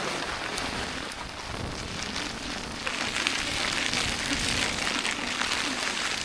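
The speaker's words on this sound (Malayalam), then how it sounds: "മൊത്തം മഴയായി." Heavy rain pours steadily on a cloudy mountain trek amid wind, a dense, continuous hiss of falling water that swells slightly louder partway through, with no talking.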